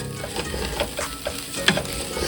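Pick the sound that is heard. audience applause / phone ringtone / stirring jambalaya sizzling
stirring jambalaya sizzling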